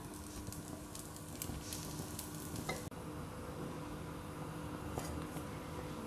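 Ragi dough, for simmili urundai, cooks on a hot pan with a faint, steady sizzle and crackle, broken by one brief dip and a few soft taps.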